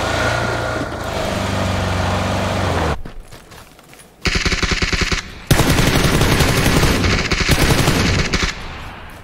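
Gunfire in the battle-royale game PUBG comes as loud, rapid automatic bursts that rattle close by. A brief quieter gap falls in the middle, then the sustained firing resumes.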